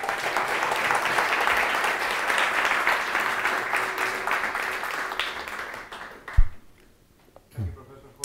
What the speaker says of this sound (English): You have to applaud longer so I can drink more water